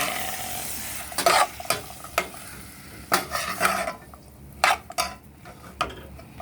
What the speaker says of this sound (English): I'm going to add them to the pot. And stir everything in.